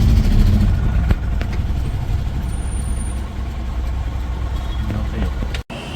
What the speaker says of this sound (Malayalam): നമുക്ക് വണ്ടി അകത്തോട്ട് കയറ്റാവേ